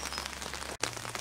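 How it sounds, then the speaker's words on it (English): Rain patters on an umbrella in a vegetable garden in early summer, a close, even pattering with a brief dropout partway through. "it's raining, so you can probably hear the rain on my umbrella"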